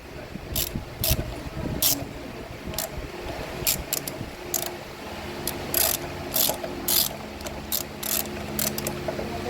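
Ratchet wrench loosening an engine mount bolt on a supercharged Range Rover V6, from below on the driver's side, heard as repeated quick clicking bursts of the pawl in close workshop surroundings.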